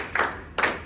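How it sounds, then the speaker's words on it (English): Two sharp bursts of hand clapping, close and clear, spaced about half a second apart as a group claps out a melody rhythm during a lesson on Latin American piano music. "So let's just clap the melody."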